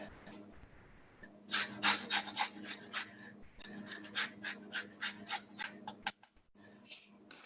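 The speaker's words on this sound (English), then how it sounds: "And then we're going to add the zest of a lemon." A lemon being zested on a grater, with a series of rhythmic scraping strokes, about a dozen rasping passes close up, following a quieter start.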